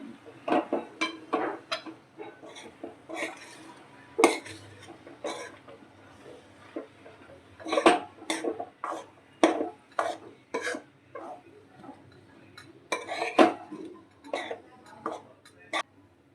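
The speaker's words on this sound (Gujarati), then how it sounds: "હવે આપણે રોટલો આમાં એડ કરી દઈશું. બધું મિક્સ કરી લેશું સારી રીતે." Crumbled rotlo is mixed in a pan with garlic masala in a Kathiyawadi-style dish. A spoon scrapes and taps against the pan in irregular bursts, close and clear.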